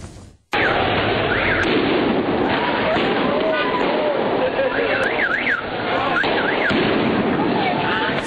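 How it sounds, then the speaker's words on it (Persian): Loud firecracker bangs and pops crackle continuously in city streets during Iran's Chaharshanbe Suri fire festival, with whistling rockets and shouting voices mixed into the din. "صدای ترقه و برپایی آتش در برخی خیابان‌ها و کوچه‌ها"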